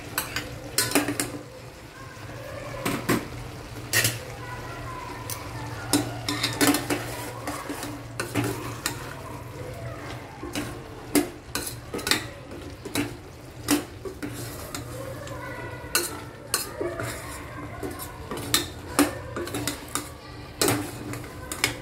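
Potatoes for chana bateta going into a metal pot and being stirred: steady clatter and scraping of a spoon against the pot, with sharp, close knocks recurring throughout and no talking.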